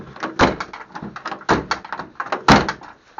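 Rear door of a Morris Minor being opened and shut several times, each swing ending in a firm metallic thunk, with lighter latch clicks and rattles in between, close by and without talk.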